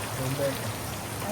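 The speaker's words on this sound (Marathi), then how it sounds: "बाहेर पाऊस आले जोरदार" Steady hiss of heavy rain pouring outside, continuous and even throughout, with a low murmur of talk faintly underneath.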